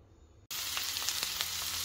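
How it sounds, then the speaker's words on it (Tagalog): Onion and garlic hit hot salmon-flavoured oil in a pan and burst into a loud, steady sizzle after a brief quiet start, with scattered pops and crackles as chayote is sautéed. "magigisa tayo ng sayote"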